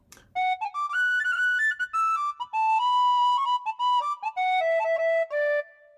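A D tin whistle played through a WARBL digital controller carries a bright, clear melody of rapid, ornamented notes stepping up and down. It sounds close and steady for about six seconds, with short gaps between phrases.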